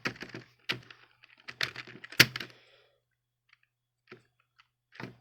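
Computer keyboard typing in Notepad comes as sparse clusters of sharp key clicks separated by silent pauses, with one louder clack in the middle, close and clear.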